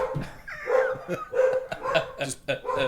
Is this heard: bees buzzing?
no